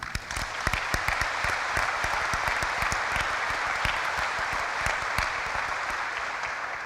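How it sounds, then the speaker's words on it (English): An audience at a pharmacy college white coat ceremony applauds graduating pharmacy students with continuous clapping, sharp individual claps standing out close by against a dense, even wash of applause from the hall. "So you deserve a round of applause."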